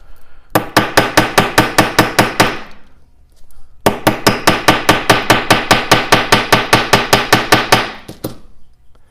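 Rapid, even taps of a nylon-tipped hammer working a metal pen cap around a bolt, two bursts of sharp, ringing knocks in steady rhythm separated by a short pause, close and alone.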